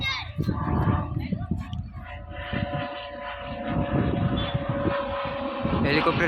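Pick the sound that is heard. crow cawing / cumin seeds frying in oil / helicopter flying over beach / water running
helicopter flying over beach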